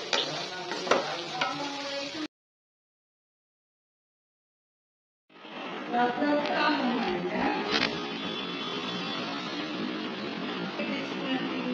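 Okra frying with spices in a pan gives a steady sizzle with stirring scrapes, broken by a gap of silence partway through before the frying resumes.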